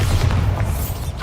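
Bombarda blasting spell going off in Hogwarts Legacy, a short heavy boom with sustained low rumble lasting about a second, loud and close, no voices.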